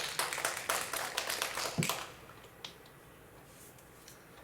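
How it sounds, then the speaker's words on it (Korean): A Korean Presbyterian church congregation in Tampa claps in welcome during Sunday worship, a lively burst of many hands for about two seconds that quickly dies away into near silence with a few stray claps. "박수 한번 부탁드리겠습니다."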